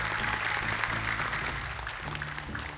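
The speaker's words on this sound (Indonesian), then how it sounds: "Boleh tepuk tangan dulu untuk mereka berdua." An audience claps for two young child contestants on a Quran memorization challenge show, a dense steady wash of clapping with background music droning underneath throughout.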